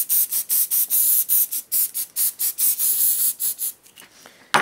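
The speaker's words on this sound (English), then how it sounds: "we're going to spray adhesive one side of our cardboard" Repeated short hissing bursts of spray adhesive applied to one side of a cardboard piece while building a paper fan, about fifteen quick, rhythmic sprays, close and fairly loud, with no speech.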